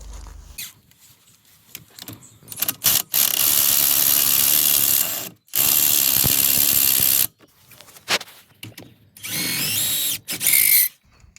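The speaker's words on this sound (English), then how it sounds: "We're using T45 to remove the caliper first" A power tool fitted with a T45 bit whines in several loud bursts while removing the front brake caliper from an Audi A4, with short quiet gaps and small clinks between runs.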